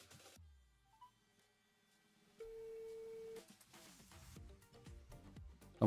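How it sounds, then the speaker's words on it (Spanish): Phone call being placed to a caller on a live radio-style sports broadcast: short dialing tones, then a steady electronic ring tone lasting about a second, followed by a voice speaking over background sound. "Estamos haciendo la llamada telefónica, estamos timbrando."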